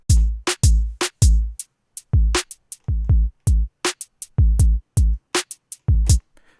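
A dry drum groove with no reverb, punchy kicks and sharp snare and hi-hat hits, each stopping abruptly with no lingering tail.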